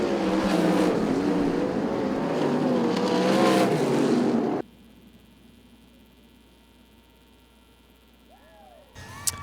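Sprint cars racing on the Arizona Speedway dirt track, engines roaring loudly as they come past, then cutting abruptly to a quiet, low hum with a brief faint sound at the end.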